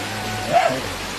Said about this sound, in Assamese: বৰষুণ লাগাতাৰ বৰষুণ দি আছে চাৰিওফালে পানী